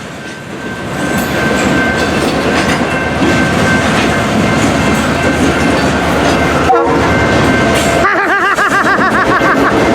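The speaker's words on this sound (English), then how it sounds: "Listen to the EMD as it continues to work hard." An EMD diesel locomotive working hard roars loudly as it passes, with a steady heavy engine drone, wheel clatter, and a brief horn blast near the end.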